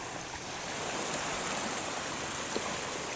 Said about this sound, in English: Cape May and the Atlantic Ocean. Just as calm as Lake Michigan